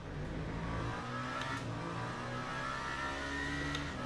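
A Toyota race car engine in the Le Mans Ultimate video game drones steadily with a sustained mid-pitched whine, continuous and even, with slight rises in pitch throughout.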